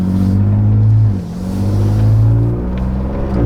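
A 2021-or-later Ford Bronco with an MRT axle-back dual exhaust cruises at around 2400 RPM, giving a loud, deep, bassy drone that swells and dips slightly with throttle, steady throughout with no talk.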